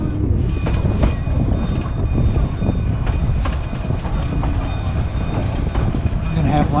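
Loud, steady rumble of an antique train riding on rails between New Mexico and Colorado, with rhythmic wheel clatter and occasional metallic clacks heard from on board.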